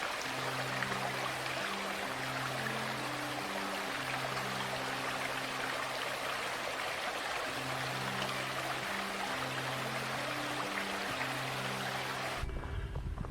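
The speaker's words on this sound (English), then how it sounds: "Okay, my first creek crossing." A mountain creek runs at a hiking-trail crossing with a steady close rush of water. Looping melodic tones play throughout, and a brief shift comes near the end.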